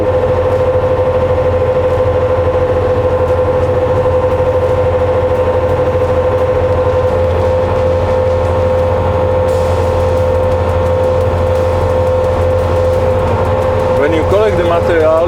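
A Bobcat loader fitted with an HD open frame sweeper attachment runs steadily at raised RPM, a loud continuous engine drone with a sweeping rattle, building slightly near the end as it moves off; a voice talks over it.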